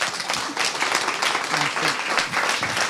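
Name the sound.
audience round of applause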